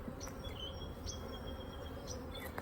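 Honey bees swarm over frames of an opened single brood chamber hive during a June inspection, giving a faint, steady buzzing hum with no voices.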